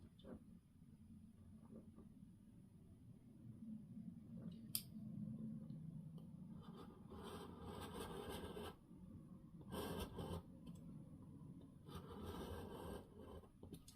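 A craft knife slices through paper on a Halloween scrapbook album page. Rasping, scraping cutting strokes come in close, uneven bursts over a low steady background hum, most of them in the second half.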